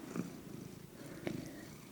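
A cat purring as it settles onto a spot, a low, steady close-up rumble running throughout with a couple of slightly louder swells.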